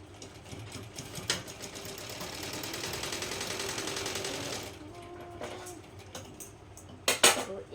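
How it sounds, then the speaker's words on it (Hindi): A sewing machine stitches a suit sleeve, running in a fast, steady whirring burst for a few seconds, close and clear, followed by shorter runs and sharp clicks of handling. "देखो मैं सिलाई कर रही हूँ।"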